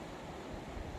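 The Heval river flows out of the mountains near Rishikesh, a faint, steady rush of water blended with wind noise.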